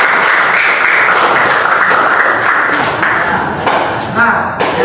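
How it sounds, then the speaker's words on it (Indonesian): A classroom of students applauds together after a school counseling lesson on bullying, a dense steady wash of clapping that fills the space and thins slightly toward the end. "Oke, yang lain tepuk tangan."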